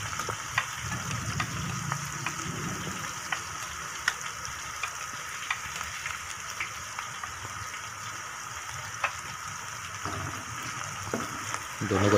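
Chopped garlic, ginger and onion frying in ghee for a cauliflower chicken masala make a steady, close sizzle, with occasional clicks of stirring throughout.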